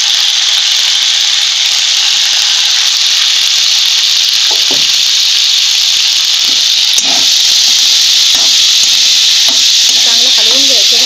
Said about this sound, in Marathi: चांगलं हलवून भाजून घ्यायचं.